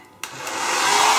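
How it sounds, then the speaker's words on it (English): A hair dryer clicks on and ramps up into a steady, loud whoosh of air while hair is blow dried backwards, the roar building and holding with nobody talking. "I'm going to blow dry it backwards"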